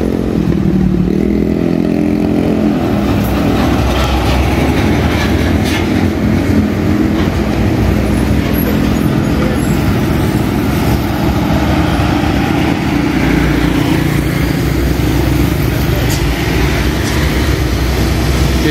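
A UD Quester diesel truck rumbles past with a loud, steady low engine drone lasting throughout, accompanied by broadband road and traffic noise at close range.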